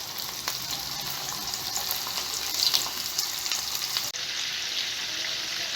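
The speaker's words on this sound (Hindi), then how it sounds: "अब हम इनको शैलो फ्राई करेंगे। इस तरह से हमने इनको शैलो फ्राई करना है।" Beef kababs shallow frying in a pan, a dense, steady sizzle of hot oil with occasional crackles and a brief clatter midway.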